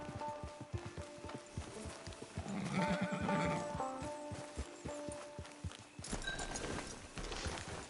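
Horse hooves clip-clop and a horse neighs in Red Dead Redemption 2 near a camp; rhythmic hoofbeats run throughout, with a whinny in the middle and a scrape toward the end, over a faint game hum.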